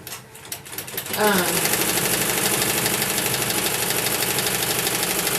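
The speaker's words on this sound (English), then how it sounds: "my sewing machine is set and ready to roll" A sewing machine for embroidery, slowed down, starts up and runs at a steady, moderate pace, its needle clattering in an even rhythm close by.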